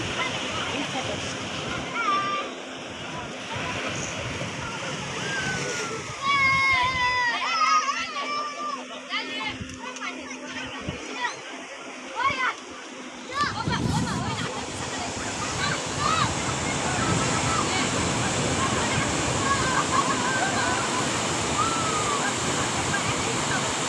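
Sea waves surge and wash ashore at Digha beach, a broad continuous roar that swells louder in the second half, with people talking and calling nearby over parts of it.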